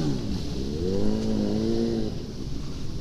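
A small motorcycle engine revs on a group ride, its pitch rising and falling over a few seconds amid steady road and wind noise.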